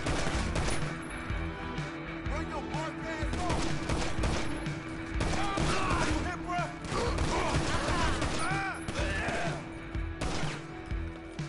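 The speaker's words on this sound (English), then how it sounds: "Pistols for effect, eh?" Pistol shots ring out during a GTA Online biker shootout, a loose string of sharp cracks over a busy game mix of engines and effects, steady at moderate level.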